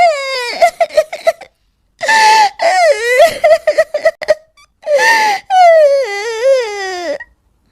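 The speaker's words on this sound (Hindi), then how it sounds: "इस जंगल में भला किसी के रोने की आवाज?" A high, wailing cry rises and falls in several long sobbing bursts with short pauses between, close and loud, in a forest, with no talking.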